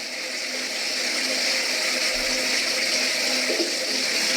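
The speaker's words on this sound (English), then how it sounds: "I'm in the shower." Running shower water, a steady close broadband rush and spatter continuing without pause, no voices over it.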